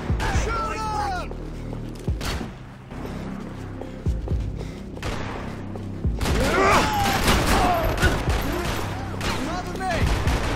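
Gunfire in the third-person shooter Max Payne 3, a dense exchange of shots and bursts during a firefight on a stairway, loud and continuous, with voices shouting over the fire.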